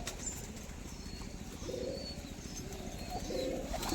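Giribaz and other pigeons at a pigeon sale coo softly in a low, steady murmur, with occasional higher chirps and faint wing flutters in the background.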